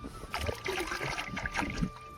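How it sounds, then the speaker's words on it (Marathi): Buttermilk is poured and stirred into a 200-litre barrel of desi cow urine slurry. Soft, fairly faint sloshing and splashing comes in uneven bursts with no speech. "आणि आता आपण हे ताक मिसळत आहोत"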